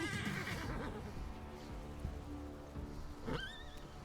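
A horse whinnies once near the end in the video game Pathfinder: Wrath of the Righteous, over a steady rainy background hiss, with a faint clattering earlier.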